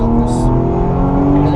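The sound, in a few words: car accelerating on a track at Le Mans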